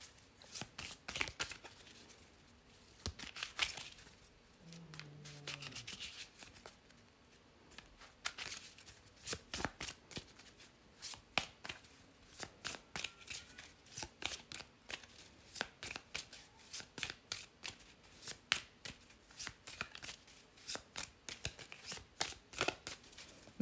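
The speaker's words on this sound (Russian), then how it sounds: "давайте перемешаем наши карты" Lenormand fortune-telling cards are shuffled by hand, with a long run of rapid, crisp riffling flicks and soft slides at close range, no voice over them.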